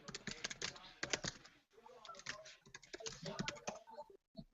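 Rapid clattering keystrokes on a computer keyboard in bursts with short pauses, close and fairly quiet, with faint speech in the background.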